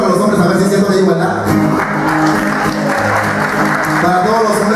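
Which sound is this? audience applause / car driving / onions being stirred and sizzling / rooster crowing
audience applause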